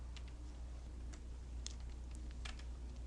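Sparse, faint key taps on a computer keyboard, a few isolated clicks over a steady low hum in a quiet room, with no talking.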